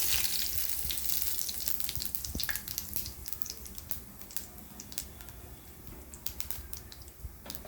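Bay leaves and whole cumin crackle in hot oil in a wok, with a continuous faint sizzle dotted with quick sharp pops throughout.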